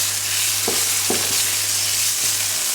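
Bacon fries in a pan for carbonara as a loud, even, close sizzle with a low steady hum underneath and a few soft knocks from the pan.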